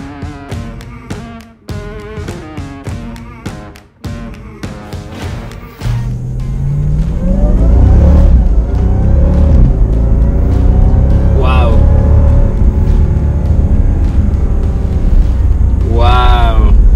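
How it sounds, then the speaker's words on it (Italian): A 2019 Jeep Grand Cherokee Trailhawk with a supercharged 6.2-litre V8 roars to life after speech, its engine rumbling loud and close and rising in revving bursts. "ho deciso di farmi un giro con la sua sorellona, la Grand Cherokee Supercharge Trailhawk"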